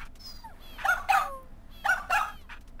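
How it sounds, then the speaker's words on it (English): Virtual dogs in the Nintendogs video game bark at a Bowser cart, two quick pairs of high, yappy barks separated by a short pause, close and clear over faint background game sound. "They're barking at him."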